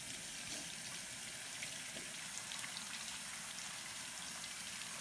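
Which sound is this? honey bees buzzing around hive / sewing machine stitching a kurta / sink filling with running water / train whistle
sink filling with running water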